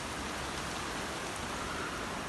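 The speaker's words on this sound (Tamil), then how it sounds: "பயங்கர மழை பெய்யுது வெளியே." Heavy rain pours down outside in a forest, a dense, even hiss of drops that stays steady and loud throughout with no voices.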